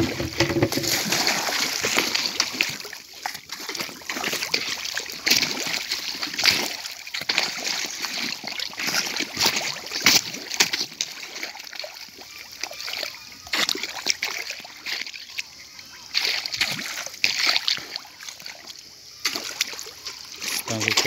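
Pirarucu fish thrash at the surface of a large tank of about 60,000 litres during feeding, throwing repeated loud splashes and sloshing water, close and continuous, with people talking at times.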